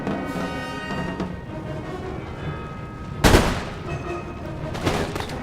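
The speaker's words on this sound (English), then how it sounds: "I want the first volley on these Marines" Musket volley fired at Marines during a battle in Empire: Total War, a sharp broadband crack of massed gunfire followed by a second smaller burst, over continuous battlefield rumble and din.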